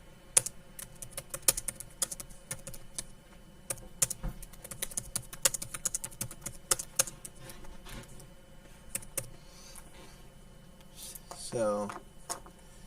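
Rapid keystrokes on a computer keyboard, close and crisp, in uneven bursts with short pauses, ending with a brief rustle.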